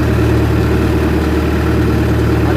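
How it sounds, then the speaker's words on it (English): Skidder engine held a little above idle by hand throttle, a loud, steady, close diesel drone with an even low-pitched throb throughout. "I always idle the skidder up with these hand throttles"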